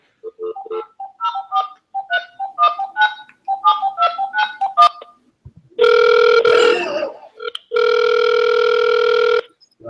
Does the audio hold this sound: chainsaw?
no